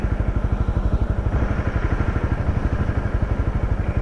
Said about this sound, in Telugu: ఎదురుగా ఏదో బైక్ వస్తున్నట్లుంది మొత్తానికి.